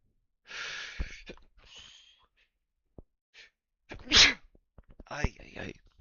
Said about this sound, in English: Oh goodness, yawn and then a sneeze coming.